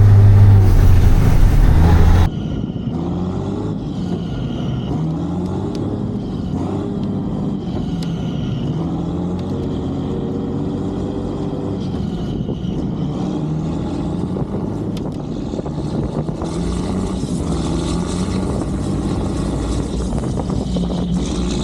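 A 1980 K-Whopper truck with a Caterpillar diesel engine running while driving, a steady heavy low rumble that holds on throughout, loud and close, with a louder burst at the start.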